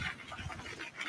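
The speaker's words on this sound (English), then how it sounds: "That was a dog." A dog pants in quick, rhythmic breaths, faint and close, over about a second with no voices.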